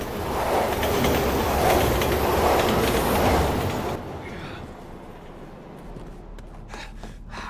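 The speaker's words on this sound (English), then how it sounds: "Train's coming!" A train passing in the Resident Evil video game, a loud, steady clattering rumble for about four seconds before it drops away to a quieter, sparse background with faint clicks.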